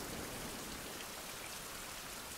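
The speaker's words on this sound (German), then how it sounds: "Regen, das ist nicht gut." Steady, dense rain falls in the survival video game Survival Fountain of Youth, a constant close hiss of drops hitting surfaces with no break or change.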